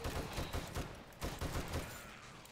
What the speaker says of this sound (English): these M60 machine guns